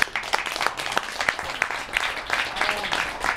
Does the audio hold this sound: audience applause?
yes